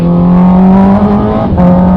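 A Honda CB650R motorcycle with an Akrapovic full-system exhaust and the silencer removed, idling or holding a steady rev with a loud, close, deep droning tone that dips briefly before resuming.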